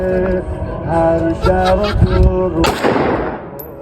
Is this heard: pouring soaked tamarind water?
no